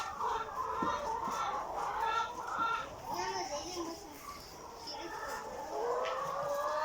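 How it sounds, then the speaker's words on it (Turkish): Chickens cluck and call repeatedly in a backyard coop, a steady layer of soft and sharper clucks throughout, with the birds fairly close and a faint murmur of activity underneath. "Şimdi tavuklarımızı rahat bırakalım. Onlar yemlerini yesin, gezinsinler."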